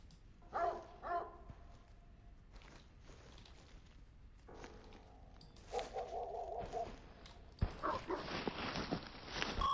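A dog barks in a scary video game, sounding in a few separate bursts amid shuffling, chewing-like noises and footsteps, with a louder, denser stretch of noise near the end.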